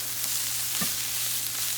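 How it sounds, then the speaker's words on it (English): Potatoes with garlic and shallot sizzle steadily in a frying pan, with a brief scrape of stirring partway through, close and moderately loud, no talking. "I'm gonna stir this around."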